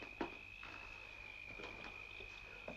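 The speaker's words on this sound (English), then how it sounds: "Or maybe it was the crickets. Oh, yes. They are noisy little brutes," Crickets chirping at night, a faint steady high trill running unbroken throughout, with a few soft thuds and rustles scattered over it.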